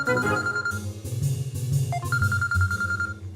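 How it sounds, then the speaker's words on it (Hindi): A phone rings with an incoming call in a telefilm drama scene, sounding as a thin electronic tone pattern over background music. "कॉल आ रही, रुक जाओ।"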